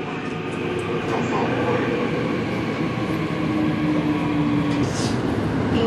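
Riding inside a subway train: a continuous, fairly loud rumble and rattle of the carriage on the rails, steady throughout, with faint voices in the background.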